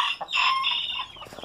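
A gamefowl hen clucking up close in a short burst of rising, throaty calls, with no other sounds around it.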